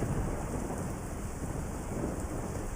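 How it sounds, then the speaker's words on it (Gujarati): Rain falls with wind in Ahmedabad, a steady dense hiss that stays loud and even throughout, with no voices over it. "માત્ર થોડો સમય પવન સાથે વરસાદ પડ્યો છે"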